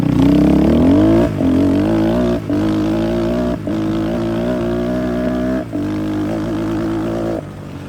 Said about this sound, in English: Alright, see if we can do a little launch here.